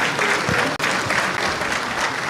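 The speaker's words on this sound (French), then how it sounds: "Est-ce qu'on peut l'applaudir" An audience at a closing ceremony applauds loudly, a dense continuous wash of many hands clapping, with a brief dip partway through and faint voices mixed in.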